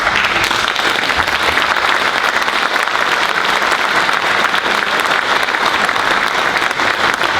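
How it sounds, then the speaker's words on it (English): A roomful of people at a regimental band event breaks into loud, sustained applause, a dense and even wash of clapping that holds steady throughout. "And I think you've clapped and said thanks very much."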